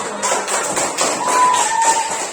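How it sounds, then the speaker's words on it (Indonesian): Schoolchildren clapping together in a primary-school classroom, a steady dense patter of many small hands lasting throughout, fairly close and loud, with faint voices mixed in. "Kasih tepuk tangan dulu."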